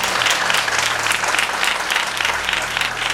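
A church congregation claps loudly and continuously in a rhythmic, pulsing wave during a healing testimony service, with a low hum from the hall's sound system beneath.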